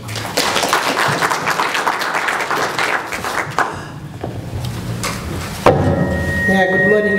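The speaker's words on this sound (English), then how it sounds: "A round of applause." Audience applause at a Ministry of Health nutrition event, a dense wash of clapping that thins out partway through before a voice begins speaking at the end.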